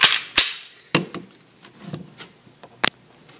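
A Walther PPQ pistol is dry fired and handled, giving sharp close metallic snaps of the striker and trigger followed by softer clicks and small mechanical rattles in an irregular sequence.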